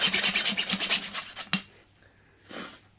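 A hacksaw cutting through a skinned deer's leg, rapid rhythmic rasping strokes up close that stop abruptly, followed by a brief softer scrape.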